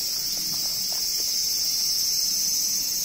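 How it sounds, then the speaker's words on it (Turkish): Loud, continuous high-pitched insect buzzing fills the hot summer air in Japan, an unbroken shrill drone from cicadas, with faint soft taps underneath. "Ağustos böcekleri çok fena ötüyor."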